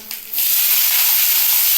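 Onions hit hot oil in a pan with a sudden loud, bright sizzle that bursts in after a brief quiet moment and holds as a steady hiss.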